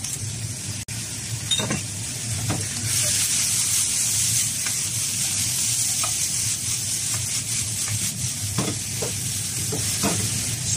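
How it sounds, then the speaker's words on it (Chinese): Green peppers, eggplant and pork belly stir-frying over low heat in a wok: a steady, close sizzle throughout, with a spatula scraping and clinking against the pan at irregular intervals. "小火翻炒个三四分钟"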